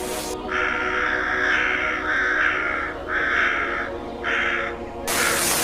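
A crow caws loudly and close in a run of five harsh, evenly spaced calls, each rasping and slightly drawn out, with no voices over them.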